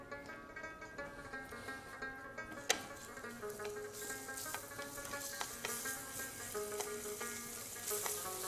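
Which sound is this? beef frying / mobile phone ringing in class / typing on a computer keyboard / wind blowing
beef frying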